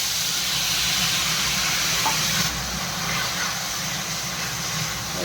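Garlic-spice water hitting hot oil in a pan, a loud steady sizzle and hiss that runs unbroken throughout, easing slightly partway through.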